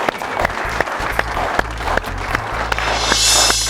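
An audience at a televised quiz show breaks into applause, dense and loud, with a few sharper claps standing out near the end.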